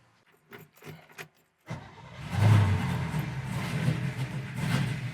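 A 1968 Camaro SS starts up after a few clicks and key sounds, then its V8 rumbles and revs loudly before settling into a steady idle, heard close from the cabin on a test drive.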